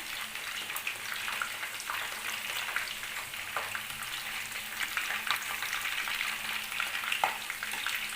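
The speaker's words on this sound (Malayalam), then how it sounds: "ഇത് നമുക്കൊന്ന് മറിച്ചിട്ട് മറ്റേ സൈഡും ഇതേപോലെ നല്ലോണം ഒന്ന് ഡീപ്പ് ഫ്രൈ ആക്കി എടുക്കണം" Chicken 65 pieces deep fry in hot oil with a continuous soft bubbling crackle and scattered sharper pops, fairly quiet and steady, with no one speaking.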